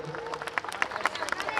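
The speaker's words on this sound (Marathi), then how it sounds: "एकदा प्लीज या चिमुकल्यांसाठी टाळ्या होऊ द्या" Audience clapping for children at an event about Chhatrapati Sambhaji Maharaj, a dense steady patter of many hands that lasts throughout, with crowd noise and voices mixed in.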